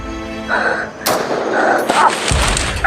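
Gunfire from sniper weapons at a guarded location, sharp cracks and bursts several times over about three seconds, loud and close, with a dense noisy wash between shots.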